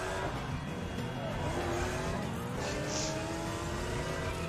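A car engine revs and accelerates in the racing video game Need for Speed ProStreet, a steady, moderately quiet whine that rises in pitch, with excited voices talking over it.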